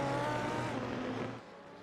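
A BMW M8 race car runs on track at Long Beach, its engine roaring loudly before fading away over under two seconds.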